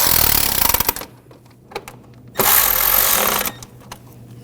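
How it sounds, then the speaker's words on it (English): A power tool whirs in two loud bursts while tightening bolts on the cooling fan assembly of a 2006-2009 Audi 4.2L V8, with quieter clicks and gaps between runs. "I'm going to tighten this down."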